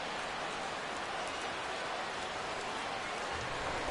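Rain falls steadily at a ballpark in MLB The Show 16, a dense, even hiss of rain on surfaces that holds constant throughout.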